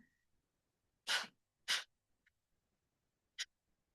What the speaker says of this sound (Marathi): घेतलेला श्वास बाहेर जोरात सोडताना पोटाला आतमध्ये झटका. कपालभातीला सुरुवात.